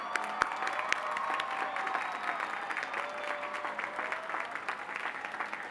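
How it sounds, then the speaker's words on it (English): Steady applause from a large crowd at a 2023 University of Oregon commencement, dense clapping at moderate distance that continues evenly throughout. "Please turn and offer a round of applause to them."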